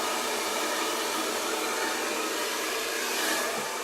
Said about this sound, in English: Even with all of that crazy blow drying that I did.